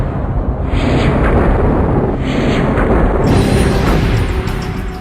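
A comet fragment smashing into Jupiter erupts in a huge explosion, a loud, sustained roaring blast filling the whole stretch with deep rumble and no speech.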